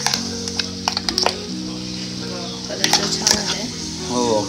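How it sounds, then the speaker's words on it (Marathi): Ground masala paste frying in oil for a mutton masala, a soft sizzle under clinks and scrapes of a utensil against the pan, with a few sharper metallic knocks and a steadier sizzle rising near the end. "तर ते आपण आता त्या तेलामध्ये चांगलं फ्राय करून घेऊया याला आपण"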